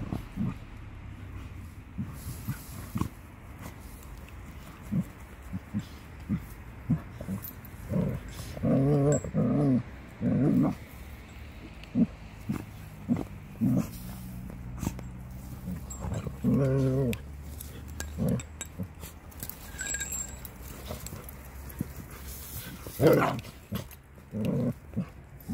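Dogs in a home make scattered whimpers, low growls and short yelps across a long stretch, some louder bursts among quieter snuffling sounds, with background room noise throughout.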